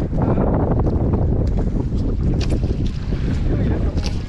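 Wind blows over a small boat at sea near floating fish cages during a fishing trip, a loud, steady roar that buffets the microphone throughout with no pause.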